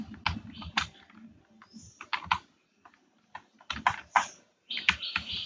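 Quick bursts of keystrokes on a computer keyboard, close and crisp, arriving in short irregular clusters separated by brief pauses.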